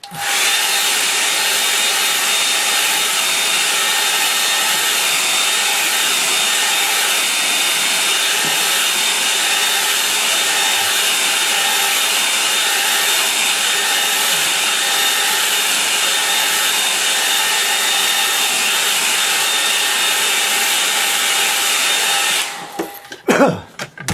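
A hair dryer blows steadily and loudly on a watercolour painting of spring light over a rocky stream, a continuous close whirring hiss that cuts off near the end.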